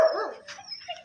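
A hungry stray dog that has wandered into a yard gives a short run of high, whining whimpers at close range, thin and wavering, with no talk over it.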